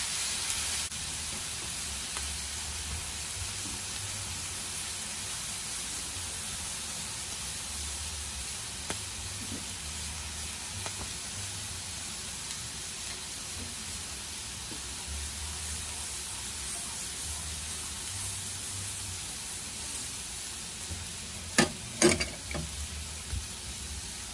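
Cheesesteak meat and bread sizzle on a Blackstone griddle, a steady, close hiss of frying that runs throughout, with a few brief clanks of a spatula near the end.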